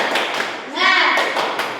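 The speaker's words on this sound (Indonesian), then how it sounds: "Ya, tepuk semangat." Elementary-school pupils of class 2B perform a rhythmic spirit clap, a brief burst of unison claps and taps mixed with children's chanting voices, close and loud, with speech around it.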